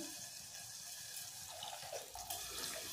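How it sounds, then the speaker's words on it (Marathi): Water poured into a pot of green peas curry, a soft continuous splashing trickle like a running tap, close but quiet, with no voices. "आता आपल्याला याच्यात पाणी ओतायचं आहे"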